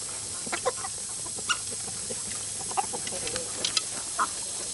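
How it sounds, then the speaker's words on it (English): Homestead chickens cluck in short, scattered bursts as they're let out of their coop, several birds close by against a quiet outdoor background. "Let's let the chickens get out."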